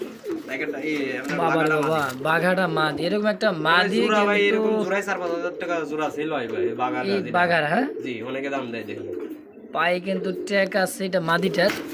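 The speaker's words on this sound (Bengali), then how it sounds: "চমৎকার আরো একটা জোড়া কবুতর" Domestic pigeons, including Giribaz high-flyer birds, at a Bangladeshi pigeon sale, cooing softly in low, rolling tones beneath nearly continuous close male conversation.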